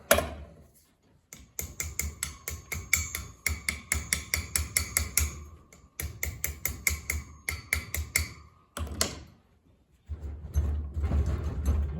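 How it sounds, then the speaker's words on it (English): Rapid metallic hammer strikes drive a rusty bearing into place, ringing out in quick bursts, several runs of sharp blows separated by brief pauses, close and clear. "so we'll use our crescent hammer"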